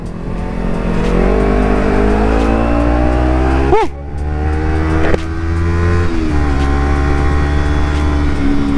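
A Honda CBR sport motorcycle engine roars loud and steady while popping a wheelie at a Sunday group ride, its pitch shifting with a sharp dip and swoop near the middle before pulling hard again.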